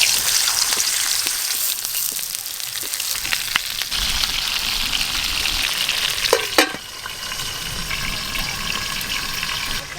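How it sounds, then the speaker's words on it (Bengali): Stuffed pointed gourds (potol dorma) fry in hot oil, giving a steady, loud, close sizzle with crackling spatters, brief stirring clatters and a sharp utensil knock near the middle. "তেল খুব ভালো করে গরম হয়ে গেছে, পুর ভরা পটলগুলো আমি ভেজে নেব ভালো করে।"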